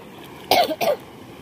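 A person coughs twice in quick succession, a sharp loud burst followed by a shorter second hack, close to the listener, with quiet between.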